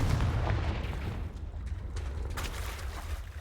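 Dense, rumbling booms and crackling blasts from an explosive Confringo spell in a Harry Potter video game, steady and loud throughout without any talk.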